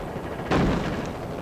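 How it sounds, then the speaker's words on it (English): A grenade explodes in the video game X2 Wolverine's Revenge with one sudden boom that fades quickly over a steady background din. "That's a nade."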